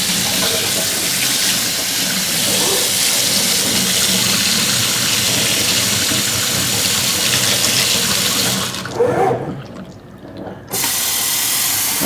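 Tap water pouring into a fish tank, a steady loud rushing hiss nearby that cuts out briefly near the end before resuming.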